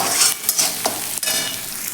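Onions sizzle in hot oil as a utensil scrapes and stirs the pan a few times, close up and fairly quiet.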